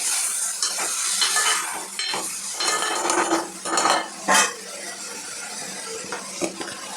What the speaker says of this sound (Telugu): ఇప్పుడు దీంట్లో ఉల్లగడ్డ ముక్కలు అయితే వేసుకుంటున్నాను. మొత్తం ఒకసారి కలుపుకున్నాం.